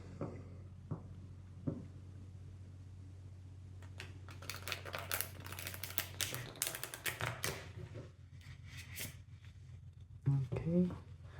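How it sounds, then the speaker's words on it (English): Tarot cards being shuffled by hand to get some reversed cards, a run of soft papery riffles and taps, louder and busier in the middle and toward the end, heard close with a faint background hum. "I'm just going to shuffle like this in order to get some reversed cards as well."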